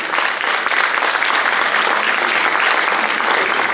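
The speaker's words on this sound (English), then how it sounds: "A round of applause, please." Loud, dense, sustained applause from a large audience at an evening lifetime award ceremony, a continuous roar of many hands close to the microphone with no talking over it.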